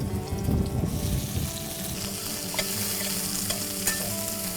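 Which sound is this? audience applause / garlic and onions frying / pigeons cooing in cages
garlic and onions frying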